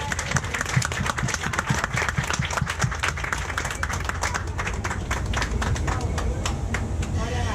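A crowd claps for several seconds, dense and even, with a few shouts and voices mixed into the applause.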